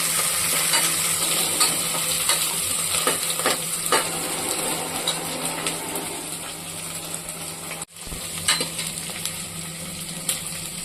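Onions fry toward brown in a pan for soya paneer pulao, a loud, steady close-up sizzle with intermittent stirring scrapes and a brief break partway through.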